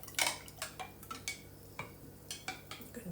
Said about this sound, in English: maybe I need to count how many stirs for a minute